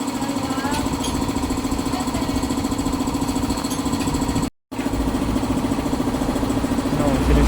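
A Suzuki Skydrive Sport motor scooter engine idles close by with a continuous low rumble throughout, interrupted by a brief cut of silence midway.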